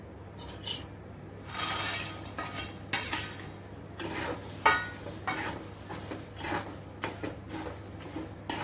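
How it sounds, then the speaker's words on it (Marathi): Chickpeas roasting in salt in a pan are stirred with repeated scraping and clinking of a spoon against the metal, over a faint steady hum, with no voices. "आणि जोपर्यंत ते फुटत नाही तोपर्यंत ते आपण हलवत राहायचं"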